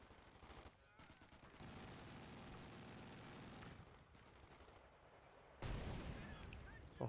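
A gammon bomb exploding in the real-time strategy game Company of Heroes 2, a sustained rumbling blast among ongoing battle gunfire, with a sharper, louder burst bursting in near the end.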